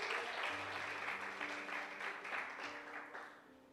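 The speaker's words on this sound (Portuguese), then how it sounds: "Aplauda o nome do Senhor" A church congregation applauding during a worship service, a quiet, fairly distant wash of clapping with sustained musical tones beneath it that gradually fades.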